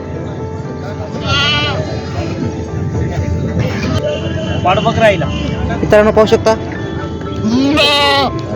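Goats bleat repeatedly in loud, wavering cries, several overlapping, at the Purna goat market in Parbhani district, while someone talks over a steady background hum of activity.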